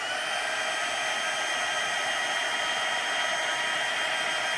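Heat embossing tool blowing hot air to set gold embossing powder, a loud, steady, hair-dryer-like whoosh that holds unbroken from start to finish with no voices.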